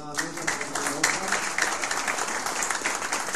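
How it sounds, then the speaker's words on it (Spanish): An audience applauds together at a church meeting, with sustained, even clapping filling the room and a voice speaking over it. "Vamos a brindar un fuerte aplauso también nuevamente al compañero Oscar."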